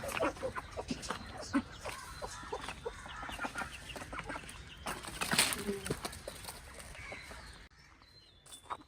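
Chickens cluck and squawk close by, in busy agitated bursts, with some rustling and handling noise around them.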